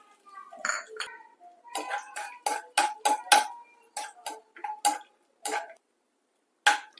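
Cashew nuts sizzle and get stirred in hot ghee in a frying pan, making a run of sharp clinks and ticks from the spoon against the metal. Bursts come quickly at first, then thin out toward the end.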